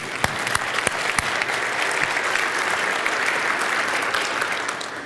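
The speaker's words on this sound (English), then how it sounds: "Give Michelle and Dale a hand, please." An audience claps steadily for about five seconds, a few sharp individual claps standing out near the start.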